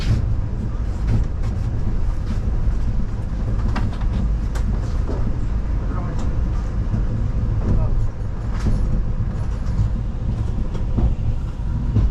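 The Howrah to New Delhi Rajdhani Express rumbles steadily along the tracks past Bardhaman station with a loud low roar and faint rattling clicks, heard from inside a carriage, with voices in the background.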